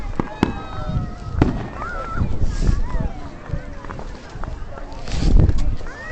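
Outdoor fireworks go off in scattered pops and thumps, with a few whistling rises, under lively talk from people nearby.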